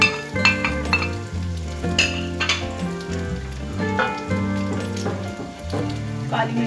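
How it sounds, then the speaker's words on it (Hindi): Chicken sizzles as it is lightly fried in a pan, with steady frying hiss broken by repeated metallic clinks and stirring scrapes of a utensil against the pan, close and fairly loud. "चिकन को हल्का सा फ्राई करेंगे।"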